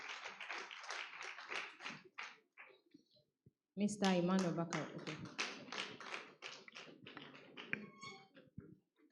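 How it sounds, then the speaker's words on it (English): An audience claps as a panelist named Emmanuel Bakari comes forward at a panel session. The applause is sparse and moderate, with sharp claps scattered under a man's amplified speech announcing him. "Let's keep clapping till he comes forward."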